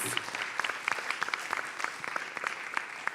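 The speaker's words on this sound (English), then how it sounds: "big round of applause, please." A conference audience at a research meeting on forced displacement gives a round of applause, dense overlapping hand claps at moderate volume, steady for the whole stretch with a faint voice underneath.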